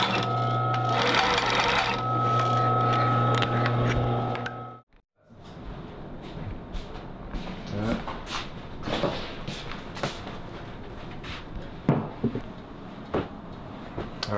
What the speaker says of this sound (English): Whenever I machine my darts, I take the opportunity to machine the centre back seam and my sleeve seams